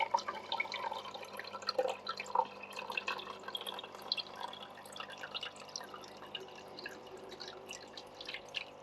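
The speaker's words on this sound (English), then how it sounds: "can actually hear the water being pulled into the unit now" Quiet trickling and dripping of water being drawn into a Hygger HG099 hang-on-back freshwater aquarium filter, with scattered small gurgles over a faint steady hum.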